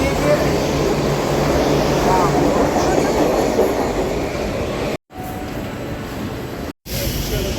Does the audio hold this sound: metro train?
yes